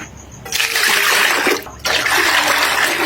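Water splashes as it is poured from a nearly empty bucket in a home kitchen while cooking crispy pata, with two bursts of pouring separated by a short pause.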